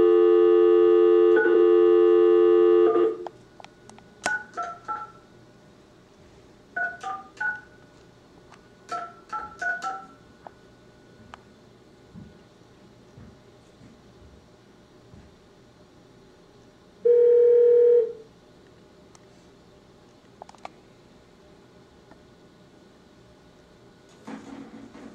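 A steady telephone dial tone during a county board of supervisors meeting cuts off into a string of short keypad dialing beeps in clusters, then a brief tone burst as the call reconnects, with no talking.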